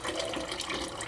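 Water pours steadily over a nervous dog being given a shower, a close, continuous splashing rush with no break and no talking.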